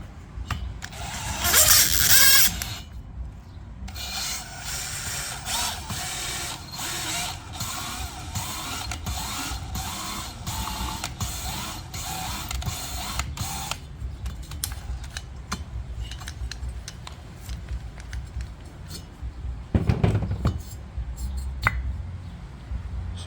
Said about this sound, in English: we're going to try to seat the valve and the seat together